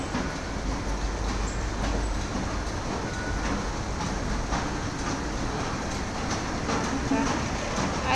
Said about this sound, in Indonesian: di bawahnya udah ada kereta ya teman-teman